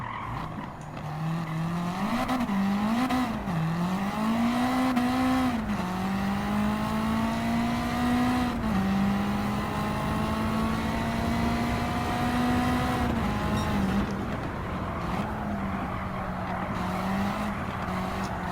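A Honda Civic EG race car laps Tsukuba Circuit in Gran Turismo 7, its engine note rising and falling steadily through gear changes and corners, a continuous near whine with brief dips under braking.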